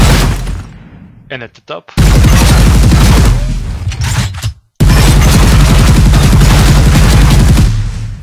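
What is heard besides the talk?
shooting destructible reinforced concrete pieces in Unreal Engine 4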